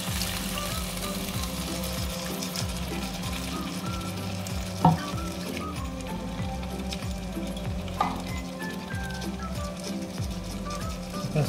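Tomato curry base sizzles and fries steadily in a pan as a cup of water is poured in, with faint stirring and a couple of soft utensil clinks; no talking.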